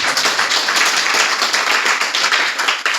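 An audience at a company event claps loudly and steadily, a dense continuous wash of applause filling the moment without pause.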